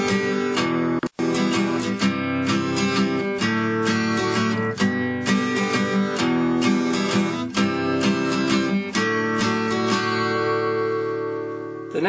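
Steel-string acoustic guitar strummed in a syncopated three-four pattern, with steady chord attacks ringing continuously and a brief break near the start; it plays loud and close, alone without talk.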